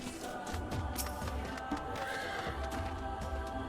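A horse mount in the video game Final Fantasy XIV whinnies once, fairly faint, over steady game background ambience, with no talking.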